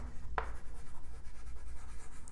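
Marker or chalk writing on a board during a Class 11 accounting lesson on bank reconciliation, a steady scratchy stroking that runs through the whole stretch with one sharp tap near the start, no voice over it.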